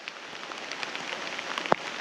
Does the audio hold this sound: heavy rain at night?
yes